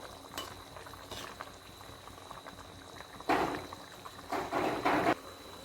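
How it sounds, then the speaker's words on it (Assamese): Fish and tomato sour curry simmers in a covered pot, a faint steady bubbling hiss with a few louder bursts of rattling and bubbling toward the end. "এনেদৰে 10-15 মিনিট সময় উতলাৰ পিছত আঞ্জাখিনি হৈ গৈছে"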